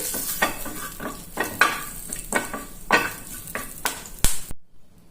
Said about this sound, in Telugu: ఒక pinch of turmeric powder add చేస్తున్నాను, పసుపుని. కొద్దిగా వేగనిద్దాము.